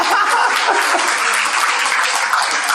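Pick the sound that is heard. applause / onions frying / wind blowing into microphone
applause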